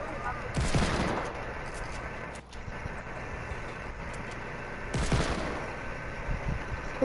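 A shooter game's gunfire comes in two loud bursts of rapid shots, one near the start and one late, with a busy rumbling battle mix between them.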